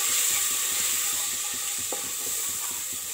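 Masala spices with coriander powder fry lightly in a pan, giving a close, steady sizzle with soft stirring scrapes throughout.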